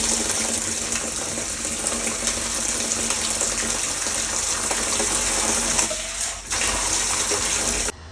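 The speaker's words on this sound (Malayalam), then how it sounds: "നല്ല അടിപൊളി തെളിഞ്ഞ കുഴപ്പമില്ലാത്ത വെള്ളമായിട്ടാണ് നമുക്ക് വീഴുന്നത്" Clear water gushes steadily from a household tap after a water tank was cleaned, a loud continuous splashing stream close by that cuts off abruptly near the end.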